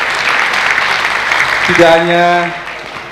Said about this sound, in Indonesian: kita harus beri tepuk tangan sekali lagi untuk Marhaban Saman